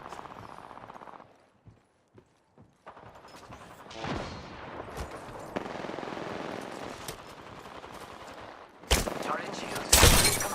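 Rapid automatic bursts of smart-bullet gunfire in a futuristic shooter game, quiet at first and then loud, dense rattling fire with sharp cracks near the end, mixed with game effects.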